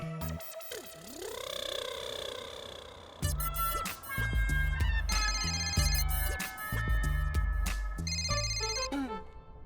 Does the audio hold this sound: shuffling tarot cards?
no